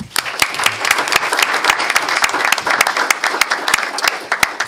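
Audience claps for student athletes at a District 302 meeting, a loud, steady burst of many hands with sharp individual claps standing out across the whole stretch.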